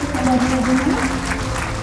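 An audience at a school event applauds to welcome the chief guest, a motivational speaker, with dense steady clapping and a voice carrying over it.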